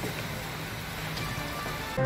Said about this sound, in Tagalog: Sa Cabanatuan City naman sa Nueva Ecija, bumuhos na ang malakas na ulan.